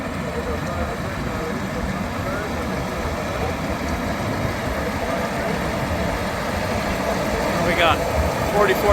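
A large Case four-wheel-drive tractor runs steadily at a vintage machinery rally, a continuous low engine drone throughout with a slight rise near the end, while people talk nearby.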